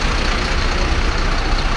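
A Gajraj Travels private bus parked at a petrol pump, its engine rumbling in a steady, loud, broadband idle with no talk over it.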